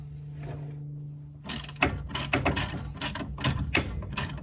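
A breaker bar works loose a suspension nut on a Chevy S-10 during a drop spindle install, with a low hum followed by a series of close metallic clicks, creaks and clunks in an uneven rhythm.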